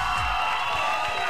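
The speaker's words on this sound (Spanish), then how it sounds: "Fuerte el aplauso a la pareja número" A crowd at a dance contest claps and cheers for a competing couple, a dense continuous roar of applause with whoops.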